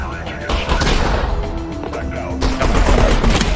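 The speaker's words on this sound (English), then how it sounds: "Somebody's shooting at me." Enemy gunfire in Half-Life: Alyx, dense bursts of close shots over a loud, busy combat soundscape with a voice talking over it.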